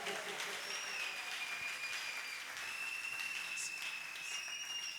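Continuous crowd applause at moderate distance during a Sunday church service, steady and even, with faint whistles or cheers rising over the clapping.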